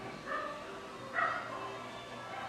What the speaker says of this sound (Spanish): Están todos los perritos alborotados.